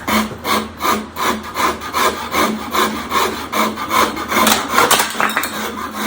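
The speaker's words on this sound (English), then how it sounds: "Another great tool is the Shinto rasp. This thing will flat out move some wood out of the way." A Shinto rasp aggressively shapes a wooden guitar neck, loud, close, rhythmic back-and-forth rasping strokes repeating steadily about twice per second.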